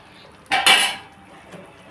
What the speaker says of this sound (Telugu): మూత పెట్టుకోండి